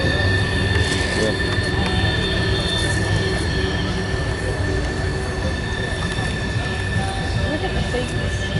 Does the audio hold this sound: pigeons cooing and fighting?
no